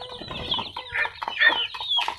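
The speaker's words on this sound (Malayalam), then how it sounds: "ഈ ഒരു മുറിയിലുള്ള കോഴികളെയും കോഴിക്കുഞ്ഞുങ്ങളെയും കൂടി തുറന്നു വിടാം" Chickens and young chicks cluck and chatter just after being let out of their coop room, with a run of busy, overlapping clucks and calls close by.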